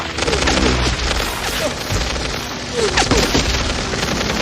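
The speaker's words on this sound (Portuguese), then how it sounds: "Simplesmente um piloto numa luta ali, cara, de tiro em cima do avião contra outro sem contexto nenhum." Rapid gunfire from an aerial dogfight between planes in the animated film Tarzan & Jane, with bursts, booms and crashes over a dense, loud, continuous action mix.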